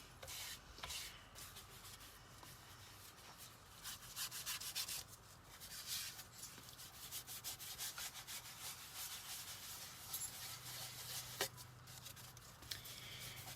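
A wooden bunny welcome sign is sanded by hand with steady, close rubbing and scratching strokes that continue without pause throughout.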